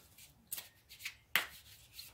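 Tarot cards shuffled in someone's lap, with two sharp riffling bursts and softer card rubs in between, close and fairly quiet.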